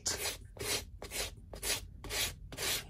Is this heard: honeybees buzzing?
no